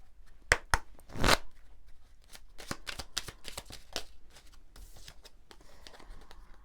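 A small deck of oracle cards is shuffled by hand, giving sharp riffling snaps and soft flutters in an irregular rhythm, close and fairly quiet, with no voice.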